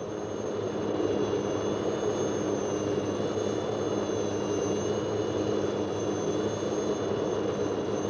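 A steady, loud helicopter engine roar with a high whine holds constant throughout, running nearby, with no talking.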